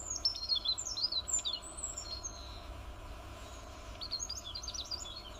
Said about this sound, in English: So next time you hear a bird sing